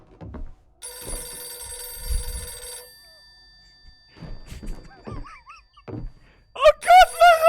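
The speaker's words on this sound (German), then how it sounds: "Telefon!" A telephone rings in the horror video game Visage, a steady electronic ring from about one to three seconds alongside low thuds and brief voices, then a brighter warbling ring bursts in loudly near the end.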